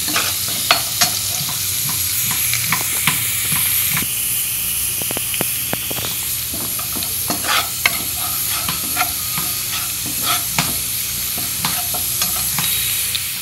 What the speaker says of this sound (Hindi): आनी तो बरो गोल्डन ब्रावन जावपासून फ्राय करता